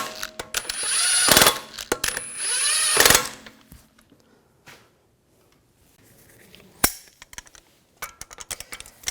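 Two loud, close bursts of an impact power tool rattling lug bolts tight on an Audi A4 wheel, each about a second long, followed by quieter clanks and a sharp click.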